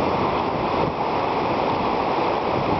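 River rapids on the French River rush in a loud, continuous roar of churning water, steady throughout with no voices.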